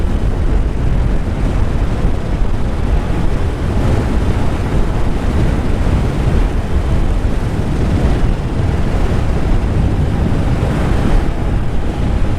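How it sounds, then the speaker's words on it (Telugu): A strong gusting wind buffets a rider on the road, roaring steadily and loudly against the microphone for the whole stretch, with no voices over it. "చూడండి ఎంత గాలి"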